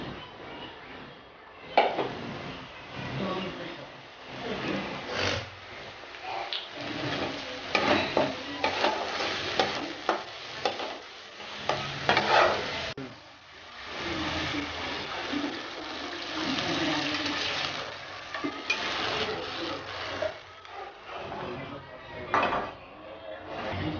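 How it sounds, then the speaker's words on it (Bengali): Water poured into a pan of sizzling mustard masala for Bengali hilsa curry, giving a steady frying hiss and bubbling with stirring clatter, close and continuous with no talk. "এবার আমি এতে জল দিয়ে দেব।"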